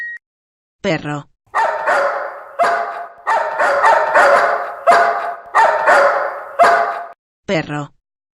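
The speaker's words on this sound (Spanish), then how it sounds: "Perro." A dog barks loudly about seven times in a fast, steady series, close and clear, with a brief voice speaking just before and just after the barks.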